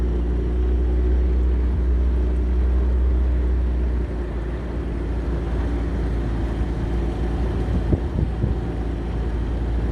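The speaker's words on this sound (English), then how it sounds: "I was just cruising along with the electric motor" A small aluminium tinny boat cruises on the Murray River under electric motor power, giving a steady, continuous low hum and drone that stays even throughout.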